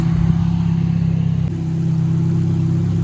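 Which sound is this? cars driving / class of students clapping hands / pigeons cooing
cars driving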